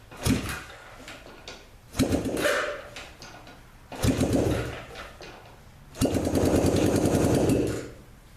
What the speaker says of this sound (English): we now have a confirmed running bike